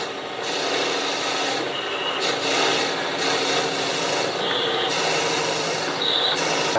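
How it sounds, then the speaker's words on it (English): A quarter-inch end mill bores a half-inch-deep hole in wood for a turned yo-yo, giving a close, loud, continuous rasping grind with slight rhythmic surges and no voices. "I'm going to use a 1/4 inch end mill, which is really nice for making an accurate hole"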